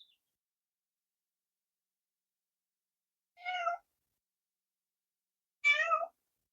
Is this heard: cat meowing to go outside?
yes